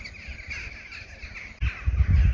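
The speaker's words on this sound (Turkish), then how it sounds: "Kargalar bile bana gülüyor mu acaba şu anda?" Crows cawing on a rocky hillside of Alimia, a Greek island near Halki: a few harsh, drawn-out calls at moderate distance, with low wind or movement rumble growing near the end.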